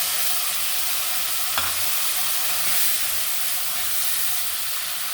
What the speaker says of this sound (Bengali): মাছ ভাজার তেলে আমি আলুগুলো ভেজে নেব।